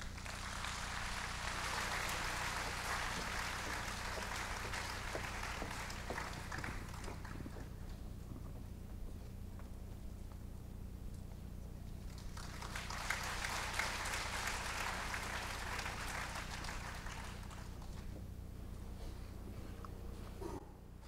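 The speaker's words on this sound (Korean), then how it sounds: "우리 큰 박수로 환영하겠습니다" A church congregation at an evening service applauds to welcome a soprano. Two separate waves of clapping rise and fade, with a quieter gap between them, over a low, constant room hum.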